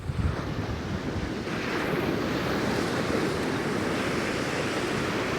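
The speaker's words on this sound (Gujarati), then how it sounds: "આ દરિયાની મીઠી મીઠી લહેરું" Sea waves wash steadily onto Chowpatty beach at Porbandar, a broad continuous roar of surf mixed with gusty wind rumble against the microphone, loud and unbroken with no voices.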